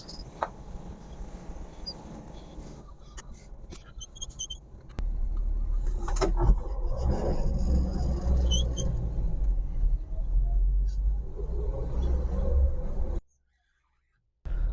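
A Land Cruiser truck engine idling after a cold start on a 38-degree morning, a low steady rumble that starts partway in and holds loud and close, with some lighter clicks and handling noises earlier.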